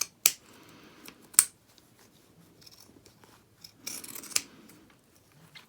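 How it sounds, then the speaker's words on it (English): Pinking shears trim the edge of fabric and excess rouleau loops, giving three sharp snips spaced apart, each a crisp close cut, with faint rustling of cloth in between. "I'm just going to trim this down, cutting off those bits of the loops which I don't need anymore"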